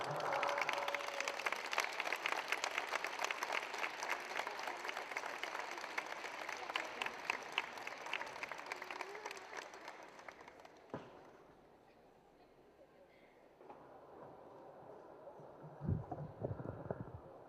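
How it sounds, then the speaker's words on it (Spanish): A live audience at a book presentation gives a loud, sustained round of applause welcoming a speaker, dense clapping that fades out after about ten seconds, followed by quieter room noise and a few bumps. "les pido que recibamos a Javier con un fuerte aplauso"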